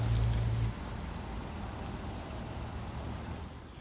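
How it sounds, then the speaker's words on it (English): A BMW automatically reversing out of its parking space at low speed under its parking assistant gives a steady, low engine and road hum that dips slightly after the first moment and then stays even. "The vehicle has successfully reversed itself out of its parked position."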